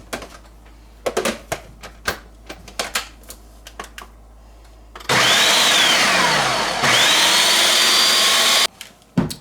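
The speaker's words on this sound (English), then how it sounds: "All of our mushroom stems in our food processor." Mushroom stems whirred in a food processor: sharp clicks and knocks of handling at first, then a loud steady motor whine for about four seconds, a brief dip, and a final few clacks.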